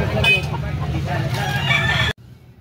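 Rooster crowing amid a busy market in Carbon, Cebu, one wavering call over a noisy crowd and traffic before the sound cuts off abruptly.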